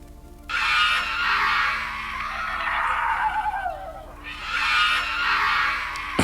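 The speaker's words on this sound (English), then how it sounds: "that's a rat screaming and fighting with an elephant." A generated effect of a rat screaming while fighting an elephant comes through as two loud, harsh shrieking bursts with a wavering, squealing stretch between them.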